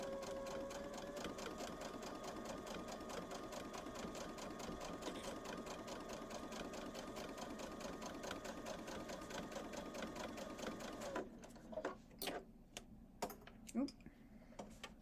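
Sewing machine back stitching through a fabric patchwork pouch, a steady close whirring run of stitches lasting most of the time, then stopping into a few short separate bursts and clicks near the end.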